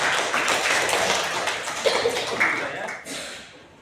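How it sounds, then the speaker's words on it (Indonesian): Classroom of students clapping for a classmate, a brief burst of hand claps that fades out, with soft room noise and a few light taps underneath. "Tepuk tangan dulu untuk Alfa."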